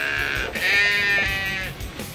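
Sheep bleat on a farm before being let out to the paddock, a loud, close, sustained wavering cry with a couple of overlapping calls, no talk.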